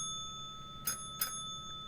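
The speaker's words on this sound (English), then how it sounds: "you're supposed to ding the bell" The small bell from the Pants on Fire game dinged twice in quick succession, two bright close rings over a faint steady hum with no talking.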